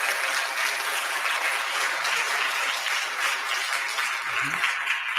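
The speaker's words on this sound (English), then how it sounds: "Can you clap for him as he's coming?" A church congregation applauds continuously as a gospel singer comes forward, a dense and even wash of clapping from a crowd, fairly loud and without talk.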